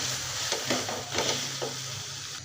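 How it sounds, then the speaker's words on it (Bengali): A sago laddu mixture with sugar being stirred in a pan, giving a soft steady sizzle with a few gentle scraping strokes from the utensil, close but fairly quiet, with no speech. "ভালো করে নাড়তে হবে।"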